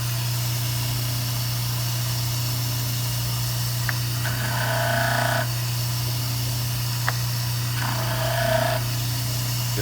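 Dental-style model trimmer grinding a plaster cube, a steady motor hum with two short bursts of abrasive grinding as the piece is pressed against the wheel, close and moderately loud.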